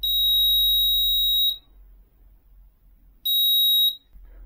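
A buzzer on a DIY capacitive water level sensor alarm sounds two loud, piercing steady tones, the first about a second and a half long and the second shorter, separated by a quiet gap with low hum.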